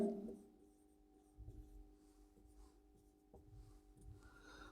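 Pen writing words for a basic grammar lesson, a faint soft scratching and rubbing of strokes on a page, close and quiet, with low room hum beneath.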